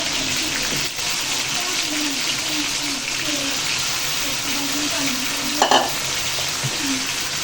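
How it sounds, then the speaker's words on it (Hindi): Chicken pieces for yakhni frying in a pan, giving a steady, loud sizzle that holds throughout with a brief sharper burst near the end and faint voices underneath. "अब ये 5 मिनट इसको करेंगे फ्राई।"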